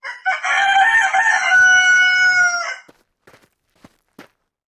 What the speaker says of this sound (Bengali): প্রতিদিন সকাল হলেই মুরগিটি ডাক দিত।